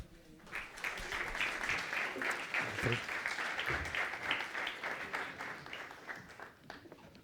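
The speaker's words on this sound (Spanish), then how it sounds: "Así que un fuerte aplauso también para Álvaro." An audience at a cybersecurity conference in Madrid claps steadily for a speaker, a dense, even wash of hand claps that holds for several seconds before starting to thin out.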